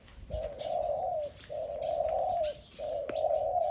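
Three long, steady coos from a mountain decoy dove, each lasting over a second with short pauses between, fairly close and clear over a quiet outdoor background.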